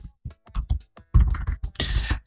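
Close clicks of keys on a computer keyboard form an irregular burst of typing, mostly single taps with a quick cluster toward the end.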